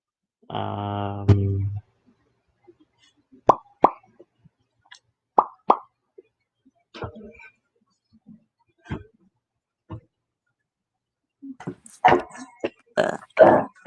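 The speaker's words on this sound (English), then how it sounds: "I'll have to go with the stinger on my phone." A podcast stinger sound effect played from a phone: a short buzzy tonal blip at the start, then scattered soft clicks and pops, and a cluster of brief bursts near the end.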